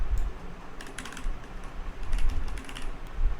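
Rapid clicking keystrokes on a computer keyboard come in uneven bursts, close and fairly loud, with no talking.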